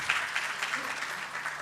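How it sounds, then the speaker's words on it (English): A conference audience at an awards event applauds briefly, a soft, distant patter of clapping with a voice heard faintly over it. "Give Shubho a big round of applause."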